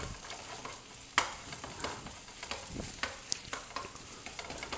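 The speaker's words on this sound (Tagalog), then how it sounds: "medyo luto na siya, so saka natin hahaluin." A rice and shiitake mushroom mixture is stirred in a sizzling pan, with soft scraping strokes and occasional sharp utensil clicks over a steady low fry, close and fairly quiet.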